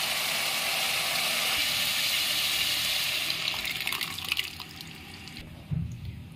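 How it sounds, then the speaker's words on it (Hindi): Dissolved dal (lentils) poured into a pan of separated oil for dhaba-style dal makhani, a continuous close splashing gush that tapers off, ending with a short clatter; no speech. "तो अब इसमें ऐड करूँगी मैं दाल जो मैंने घोल के तैयार की हुई है।"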